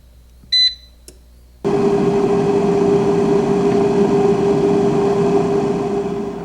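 An air fryer gives two short beeps, then a second later its fan starts up and runs with a loud, steady whirring hum close by.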